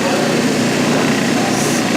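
An electric squirrel-cage motor rated at about 1793 rpm runs with a steady, loud, even hum and whir that does not change over the moment.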